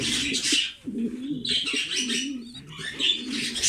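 Steady, rolling low coos from a male tumbler pigeon close by, repeating in a continuous rhythm, with brighter bird chirps and rustling layered over them.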